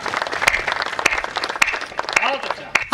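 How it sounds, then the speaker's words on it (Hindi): Audience applause at a Hindi comedy poetry show, a dense clapping wash under a speaking voice with sharp periodic accents, steady and fairly loud throughout. "अब तालियां होनी चाहिए"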